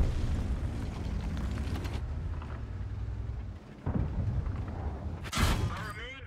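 A tank gun firing in World of Tanks, heard as a few heavy booms and thuds, the loudest burst near the end, over steady engine rumble, with someone talking at times.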